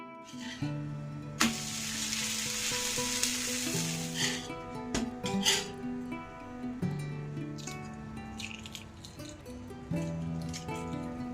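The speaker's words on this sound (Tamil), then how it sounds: "பையனுக்கும் ஹஸ்பண்டுக்கும் வந்துட்டு தோசை ரெடி பண்ணிகிட்டு இருந்தேன்" Dosa sizzling on a hot pan, a soft, fairly faint frying hiss with occasional crackles and scrapes, under sustained tonal background sound.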